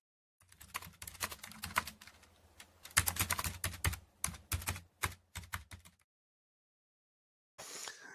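Rapid, ferocious typing on a computer keyboard, close and crisp, with clustered key strikes in bursts for about six seconds, then silence and a short noisy tail.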